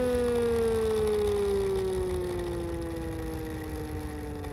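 3D printed Chrysler siren winding down toward idle, a loud steady mechanical wail whose pitch slowly falls, with a rumbling motor drone underneath and no speech.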